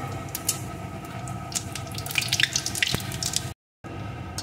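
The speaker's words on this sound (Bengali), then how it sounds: "এখন ফোড়নটা সুন্দর করে ভেজে নেব।" Dried red chili and whole cumin sizzle and crackle in hot oil, a steady bed of bright spitting and popping with scattered sharp crackles, close by and without speech, briefly cutting out near the end.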